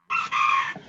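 A chicken gives one loud, drawn-out, close call, a single sustained cry that breaks off briefly partway through and fades quickly at the end.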